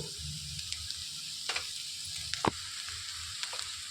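Broad bean fry topped with grated coconut is stirred in a hot pan, a soft continuous sizzle broken by a few sharp scrapes and clinks of the spoon, close and moderately quiet.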